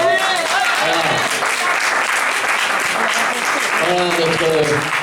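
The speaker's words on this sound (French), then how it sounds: "On peut applaudir Christophe" An audience claps warmly and continuously for several seconds, a dense, sustained wash of applause with voices heard over it.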